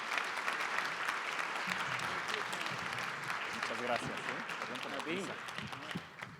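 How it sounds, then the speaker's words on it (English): Applause from the audience for the panel speakers at a conference on the United States–Colombia free trade agreement, a steady round of clapping that fades slightly toward the end while voices talk over it. "let's give them a big round of applause to our speakers"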